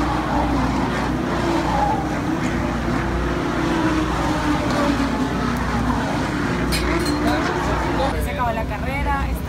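Race cars at a race roar past, a continuous loud engine drone with a passing swell, while people talk over it.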